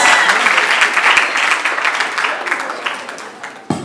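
Loud applause from a crowd of high school students in a school gathering in Kamina, dense clapping that holds steady, then thins out and ends with a final brief burst.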